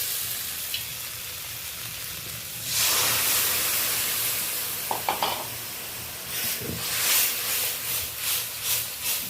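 Ground spice paste for a magur fish and potato curry hitting hot oil in a pan, bursting into a loud hiss and sizzle, followed by bouts of stirring and scraping as the frying continues.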